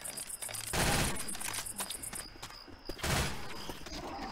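Rapid gunfire bursts in the Left 4 Dead 2 video game, loud and dense, with heavy volleys near the start and again around the three-second mark over a continuous din of game noise.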